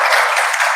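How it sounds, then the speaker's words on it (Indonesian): An audience at an organizational opening assembly breaks into a burst of dense, steady clapping, loud and close throughout. "Tepuk tangan."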